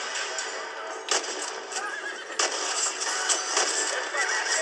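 A horse in the Red Dead Redemption video game neighs and whinnies in several sharp, bright bursts, alongside hoof clatter and game action noises at moderate volume.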